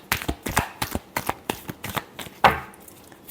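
Tarot cards are shuffled by hand close up, a run of about a dozen quick papery riffling flicks in an uneven rhythm, with one slightly louder snap near the end.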